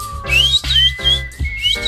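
A shrill whistle sounds loud and close in several sliding, warbling bursts with short gaps between them, alone with no talking.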